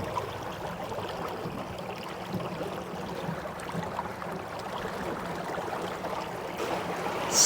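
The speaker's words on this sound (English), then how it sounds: "All you hear is the water coming off the engine." Water washes steadily off an ePropulsion Spirit 1.0 electric outboard running at about quarter throttle. The rushing flow is soft and continuous, with no engine noise above it.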